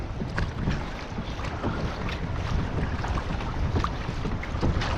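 Steady wind buffeting the microphone while kayak fishing on the sea off Portland, a continuous low rumbling roar with faint water sounds and no speech.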